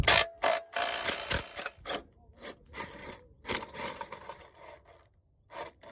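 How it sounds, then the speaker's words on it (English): A ratchet with a universal socket and extension works bolts loose during small-engine repair, giving short, uneven clicking and scraping bursts at close range that thin out toward the end. "I have to use my universal socket and extension."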